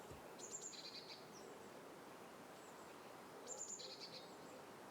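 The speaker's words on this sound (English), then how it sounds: "Let's begin with the soft birdsong, grounding you." Soft birdsong in a quiet natural setting: two short bursts of high, bright chirping and warbling calls, one near the start and one a few seconds later, over a faint steady background hush.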